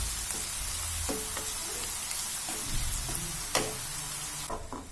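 Two medium finely chopped onions sizzle steadily in a pan as cooking for Punjabi sarson ka saag begins, with occasional stirring scrapes over the soft frying hiss.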